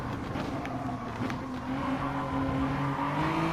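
Group 3 race car engine in the Gran Turismo Sport video game at the Alsace village circuit, a steady droning engine note held at high revs with a slowly rising pitch, continuous and close.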